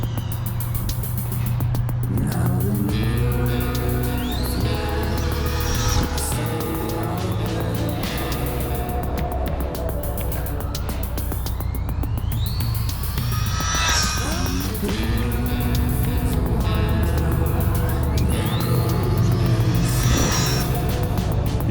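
An RC10 goldpan radio-controlled car with a gear cover runs nearby, its electric motor and gears whining up and down in repeated rising sweeps over a constant rumble.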